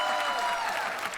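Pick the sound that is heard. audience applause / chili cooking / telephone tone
audience applause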